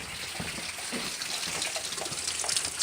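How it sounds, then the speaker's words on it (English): Heavy rain pouring outside, a steady dense wash of water noise heard close by, continuous and fairly even throughout with no voices. "Now it's raining today."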